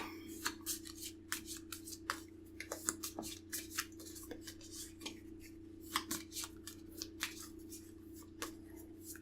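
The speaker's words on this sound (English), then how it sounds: "I'm going to have to shuffle my deck." Cards from a Legendary Encounters: Alien deck being shuffled by hand, a steady run of soft riffling flicks and taps over a low constant hum, fairly quiet and close.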